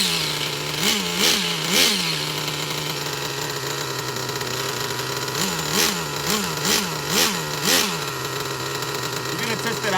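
A Traxxas Jato 3.3 nitro RC car engine runs close by with a steady high buzzing idle, broken by several short revving blips in two clusters.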